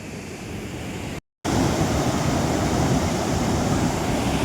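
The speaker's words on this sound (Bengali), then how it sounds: "জলের একবার সাউন্ডটা শুধু শোনো।" A water stream rushing below a waterfall at Rewa Eco Park in Madhya Pradesh gives a loud, steady roar that fills the scene, broken by one brief dropout, with no talk.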